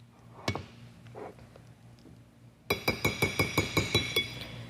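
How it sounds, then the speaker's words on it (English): Utensil scraping and clinking around in a cooking pan, a few scattered knocks at first, then a quick run of regular bright taps and scrapes close by, with no talking. "Stir it around."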